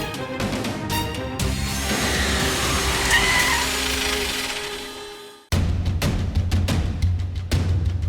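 A car brakes and halts with a rising engine roar and screeching tyres that suddenly cuts off, then a short quieter stretch with a low idle and a few thumps.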